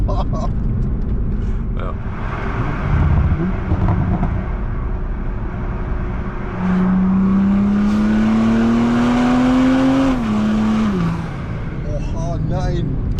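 A 2019 Toyota Supra MK5 engine lugs at low revs, a loud steady droning note rising slowly then dropping, under road and wind noise, with a man's brief spoken word.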